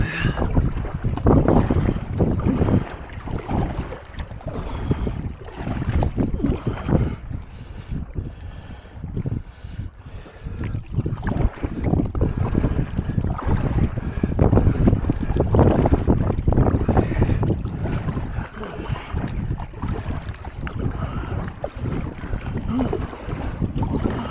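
Strong gusting wind while paddling an Itiwit X100 canoe on the Norfolk Broads, loud buffeting microphone wind noise with water splashes running throughout.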